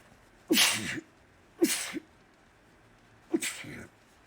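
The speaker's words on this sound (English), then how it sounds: "I'm about to sneeze." Three sharp sneezes, each a sudden burst with a short inhaled lead-in, spaced about a second apart and fairly close.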